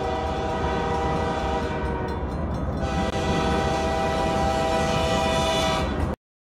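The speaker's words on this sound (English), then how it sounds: "I'm going to pass some tanker train" A tanker train hauled by a GP9 locomotive passes with its horn sounding a sustained multi-tone blast over the steady rumble and rattle of the cars, ending abruptly.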